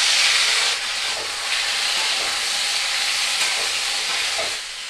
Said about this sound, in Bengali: ফোড়ন ভাজা হয়ে গেছে, দিয়ে দেবো কেটে রাখা কুমড়ো আলু।